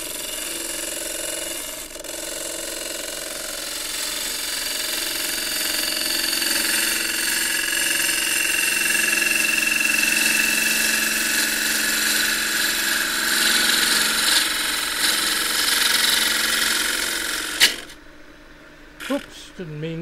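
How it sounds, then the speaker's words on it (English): Bowl gouge tapering a roughed-out cylinder spinning on a wood lathe, a steady whirring cut with a bright scraping edge that runs continuously for most of the stretch, then stops abruptly near the end, leaving a few faint knocks. "So in with the bowl gouge again"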